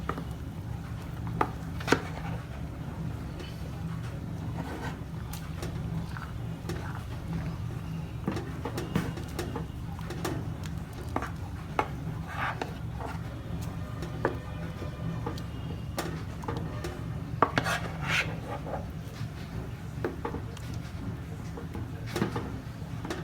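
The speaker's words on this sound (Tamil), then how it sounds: "இந்த மாதிரி சாதம்லாம் தனித்தனியாக ஆகிற மாதிரி அதை கிளறி விட்டுருணும்" Rice being stirred into bisibelabath in a pot, a low bubbling rumble with scattered soft scraping and knocking strokes throughout, close and steady, no voices.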